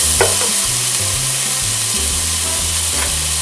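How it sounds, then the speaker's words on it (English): Garlic hits a pot of chili cooking for a Super Bowl meal, producing a loud, steady sizzle and frying crackle with stirring scrapes, close up and without talking. "is we're going to add our garlic"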